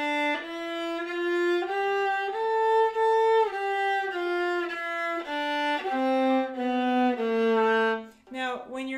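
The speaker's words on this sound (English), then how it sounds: "It's the natural minor scale." A viola plays a one-octave A natural minor scale, bowing sustained single notes that step up and then back down in a steady, even rhythm, close and clear, with a brief voice at the very end.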